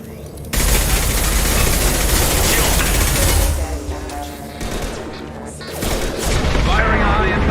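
Sustained automatic gunfire in Mass Effect 2 hammers away loud and dense, a rapid fusillade with booming impacts, easing briefly midway before surging again, with voices talking in the mix.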